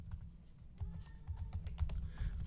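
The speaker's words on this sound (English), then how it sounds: "My typing." Rapid, uneven clicking of keys on a computer keyboard, close by, with a low steady hum underneath and no voices.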